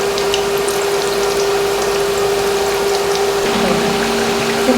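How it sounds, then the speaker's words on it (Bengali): Flour dough snack frying slowly in oil over low heat, a steady even sizzle with a constant background hum. "এই জন্য আমি হালকা আঁচে ভেজে নেব। আস্তে আস্তে খুব ধৈর্য সহকারে ভাজতে হবে।"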